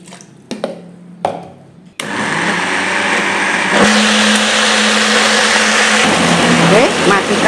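A kitchen blender grinds gado-gado peanut sauce thinned with coconut milk. After a few short knocks it starts and runs as a loud, steady whir, dipping briefly in pitch partway through as the thick sauce shifts, close up.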